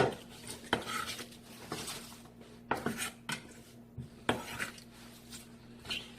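A knife slicing cabbage into wide pieces on a board, a series of crisp, separate cuts and taps spaced about a second apart, close and fairly quiet.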